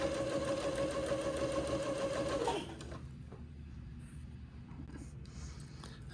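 A sewing machine stitches a lace panel onto the bottom of a skirt, a close, fast and steady mechanical whirr that runs for a couple of seconds, then stops and leaves a quieter background hum.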